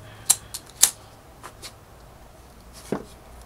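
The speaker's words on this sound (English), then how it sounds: "What a world of difference a pair of good scissors make." Scissors snipping through paracord during bracelet making, a few sharp close cuts spaced irregularly, with a couple of softer handling clicks in between.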